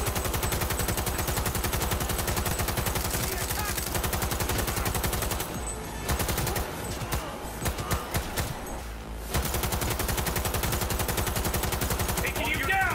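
Sustained automatic gunfire in the video game Cyberpunk 2077, dense rapid bursts running loud through most of the stretch, breaking off briefly in the middle before resuming at full intensity.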